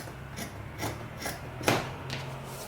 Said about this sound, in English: now you're going to trim off the seam allowance here so that it will not be bulky inside